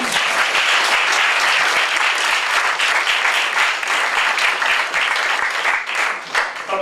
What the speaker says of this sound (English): And a round of applause preemptively for these guys who are about to serve you drinks